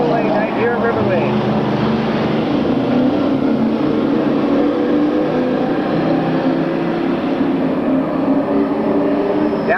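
Sportsman heat race cars roar down the backstretch of an oval track, a continuous layered engine drone with overlapping pitches holding loud and steady throughout.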